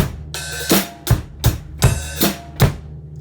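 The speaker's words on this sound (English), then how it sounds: "although it's the same style, there is an extra bass drum, which will sound like this" A drum kit plays a steady groove for the song Hey Joe with snare hits and a thumping bass drum, including an extra kick between beats, loud and close.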